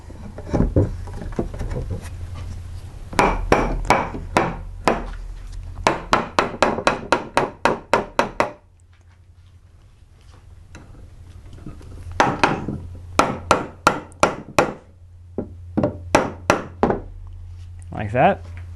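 Wooden tenons on a table leg are knocked into a pair of mortises with a series of sharp, close wooden taps in quick bursts, separated by pauses of low room hum.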